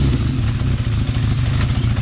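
A Honda CB550 motorcycle engine runs loud and close with a steady mechanical idle rumble and clatter, heard alone without talk.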